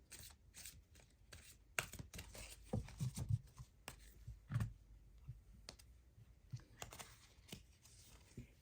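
Oracle Fairies tarot cards are shuffled by hand, making quick papery riffles and soft flicks in uneven bursts, close and quiet with no voices.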